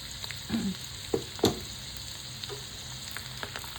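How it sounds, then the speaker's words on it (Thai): Small fish, pla lot, deep-frying crisp in hot oil, a steady close sizzle with a few sharper pops and crackles near the start. "ตัวเล็กๆทอดกรอบเลย"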